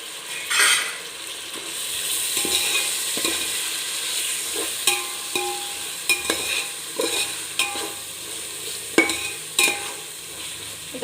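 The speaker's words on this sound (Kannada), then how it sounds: "ಈಗ ಟೊಮೆಟೊ ಹಾಕ್ಕೊಳ್ತಾ ಇದ್ದೀನಿ." Tomatoes are stirred into frying Ambur chicken biryani masala in a pan, with a steady sizzle under repeated scraping and clinking stirs from a utensil, close and moderately loud.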